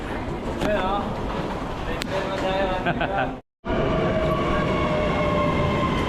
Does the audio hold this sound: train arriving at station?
yes